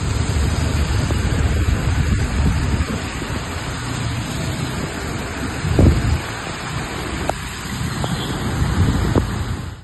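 Heavy rain pours down in Hyderabad during a thunderstorm, a dense steady hiss broken by a soft low rumble midway and faint distant knocks.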